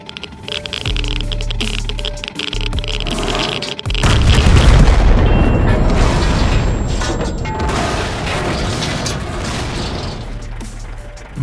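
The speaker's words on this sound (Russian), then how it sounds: "Просто был близко к эпицентру взрыва" A loud boom from a TV-4 bomb going off aboard a Soviet steel monster in an animated cartoon, bursting in around four seconds and rolling into a long, dense rumble that slowly fades, following earlier rhythmic mechanical thumping.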